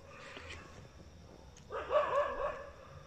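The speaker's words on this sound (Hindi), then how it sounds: "कुत्ते इतने सारे इकट्ठे हुए हैं कि हम क्रॉस नहीं कर सकते इस रोड को" Dogs barking on a village road at night, a burst of several overlapping barks and yelps in the middle, moderately close, with quieter ambience before and after.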